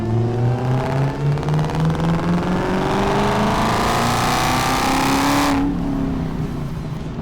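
A Dodge Demon engine with long-tube headers revs loud and close, its pitch climbing steadily over several seconds before cutting off abruptly near the end.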